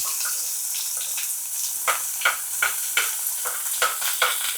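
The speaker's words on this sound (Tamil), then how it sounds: "போட்டுட்டு வெங்காயம் நல்லா வதக்கிடலாம்." Onions, curry leaves and coriander sauté in a pan, giving a steady sizzle broken by a series of rhythmic stirring scrapes and clatters, close and fairly loud, with no talking.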